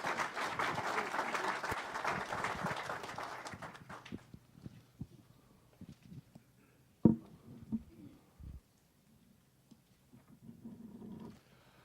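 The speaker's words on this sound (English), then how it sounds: "Let's give them a round of applause" A council meeting audience applauds in a dense burst of clapping that fills the room for about four seconds, then thins into a few scattered claps and room noises as it fades.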